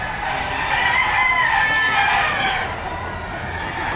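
A rooster for sale at a poultry market in Batangas, a Gilmore Hatch line bird, crows loudly and steadily for several seconds at close range, with no talking over it.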